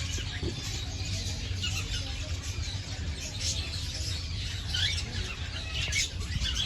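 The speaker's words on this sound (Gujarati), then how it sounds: "આ જો તો પેલા માથામાં જો કલગી વાળી ચકલીઓ" Crested sparrows at a zoo aviary chirping in busy, overlapping calls with fluttering wings, heard a little way off over a steady crowd hum.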